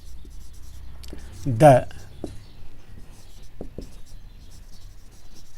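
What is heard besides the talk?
writing during lecture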